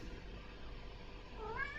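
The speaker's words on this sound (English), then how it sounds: "Oh, and there's a cat. What does she want? She wants attention." A cat gives a short rising meow near the end, faint behind steady low background noise.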